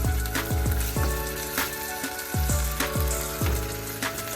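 Beef and broccoli stir-fry in a smoking hot pan, a dense sizzle cut by repeated rhythmic metallic clangs of the utensil against the pan, roughly every half second, close and loud with no speech.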